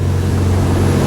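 A steady, loud low drone from the engines of a 2008 Nimbus 402 Nova motorboat cruising at about 25 knots, continuous and close with rushing water noise.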